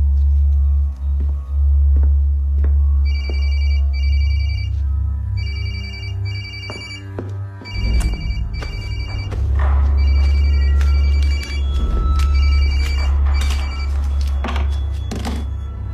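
A telephone bell rings in repeated double bursts, loud and close, going unanswered for the whole stretch over a steady low hum with occasional thumps and no voices.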